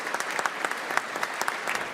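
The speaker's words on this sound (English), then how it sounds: "he was met with thunderous applause" Dense applause from a crowd at a State of the State address, many hands clapping rapidly in an irregular patter, moderately loud.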